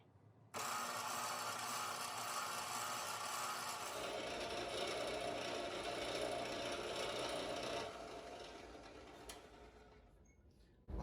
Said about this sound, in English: I'm going to do that on the drill press.